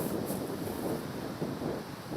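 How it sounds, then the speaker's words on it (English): Strong wind on a disc golf course at Wortham Trail, a continuous rough roar buffeting the microphone with heavy low rumble and no letup. "the wind is blowing pretty fierce"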